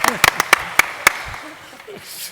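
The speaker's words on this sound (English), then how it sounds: "Round of applause for Pippa." A handful of sharp, scattered hand claps for a woman at an advertising industry panel event, close and fading after about a second, with voices talking and whooping around them.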